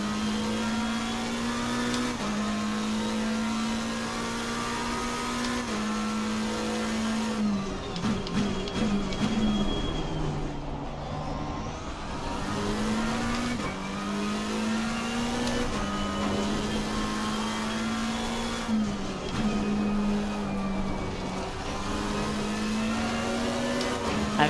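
Race car engine at night on the Kyalami circuit in Assetto Corsa Competizione, a loud, continuous mid-pitched drone that climbs through repeated upshifts, drops on braking and downshifts, then revs up again.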